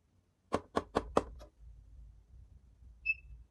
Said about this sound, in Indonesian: Pertama, kita akan mengetes ketukan pada pintu.